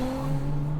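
A 500hp Toyota Chaser JZX100 on winding hill roads gives a loud, steady engine drone with a strong sustained tone, heard up close and alone for under a second.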